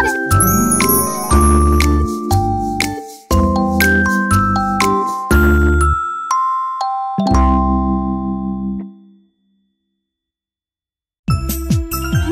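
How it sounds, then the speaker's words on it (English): Bright bell tones ring out in a melodic sequence, chiming and ringing over several seconds, then a pause before more chimes. "Morning bells are ringing"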